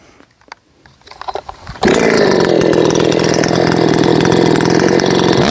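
A ported Shindaiwa 600sx chainsaw is pulled a few times, then fires and restarts, settling into a loud, close, steady high-revving drone.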